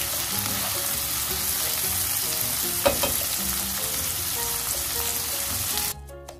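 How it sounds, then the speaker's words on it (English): Shrimp sizzling in a reducing garlic pasta sauce in a pan, a loud dense continuous frying hiss with a brief stir or clink partway, heard close and alone before it cuts off abruptly near the end. "Now I'm gonna add my shrimp"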